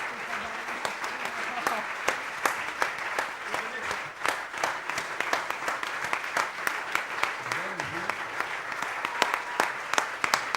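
A crowd gives a sustained round of applause honouring glass master Lino Tagliapietra at a Venice glass award ceremony, dense steady clapping from start to finish with a few voices briefly audible.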